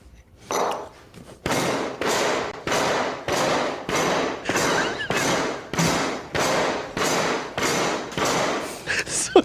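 A lasagna is banged and smashed against a table in a steady series of about a dozen loud, sharp thuds, each evenly spaced and decaying quickly.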